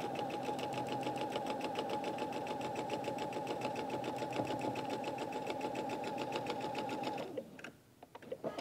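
A sewing machine runs steadily, stitching a patch onto a log cabin quilt block, its rapid, even mechanical chatter holding close and constant for about seven seconds before stopping and leaving a few faint clicks.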